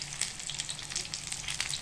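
Battered paneer pakoda pieces deep-frying in hot oil, a continuous soft bubbling sizzle with small crackling pops throughout, fairly quiet and close, with no voices.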